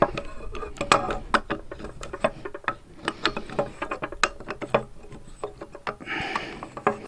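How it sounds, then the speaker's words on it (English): Spanner work on a Stihl FS90 brush cutter head: a quick series of small metallic clicks, ticks and scrapes as a 19 mm spanner unscrews it, close and irregular, ending in a brief rubbing rattle. "now with the spanner of 19 we just unscrew it towards the right"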